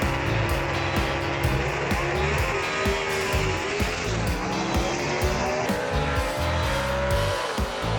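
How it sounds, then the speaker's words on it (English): Gasser drag race cars launching off the starting line at a Southeast Gassers event, loud continuous engine roar with rising revs and tire squeal, close and overpowering throughout. "he went straight off the starting line and got a good launch"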